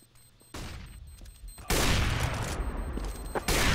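Gunfire in a professional Counter-Strike match on the map de_train: bursts of rapid automatic shots come in separate volleys, the last two loud and dense, with game ambience between them.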